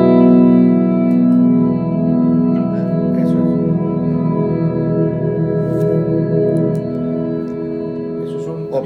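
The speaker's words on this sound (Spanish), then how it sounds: "si estamos utilizando el reverb famoso de Eventide que se llama Black Hole, tenemos la función de poder congelar la cola del reverb" Eventide Black Hole reverb with its tail frozen, holding a dense sustained chordal wash that drones steadily and evenly throughout with no attack or decay, loud and alone.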